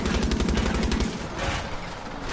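A fast, even burst of close gunshots in Far Cry 6 crackles for about a second, then gives way to dense, noisy rumble.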